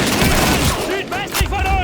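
Gunfire in Call of Duty 2 during a World War II infantry battle, rapid close shots crackling amid battlefield noise, with shouted voices over the firing.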